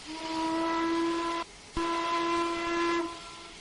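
A C&O steam locomotive whistle blows in the Trainz 2019 simulator, a loud close chime-like tone that cuts out for a brief hiccup mid-blast, then resumes and tails off after about three seconds.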